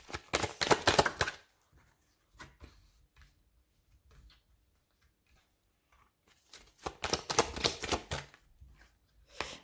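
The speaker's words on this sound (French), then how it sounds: "on va poser nos 6 cartes" Tarot cards being laid out on a table during a reading, heard as two dense flurries of crisp shuffling and slapping card noise at start and end, with sparse soft taps and rustles in between, close and fairly quiet.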